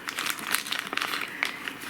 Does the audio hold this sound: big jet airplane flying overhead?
no